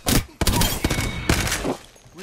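Video-game gunfire comes in loud, close bursts of rapid shots, with short gaps between volleys and a brief pause before firing resumes.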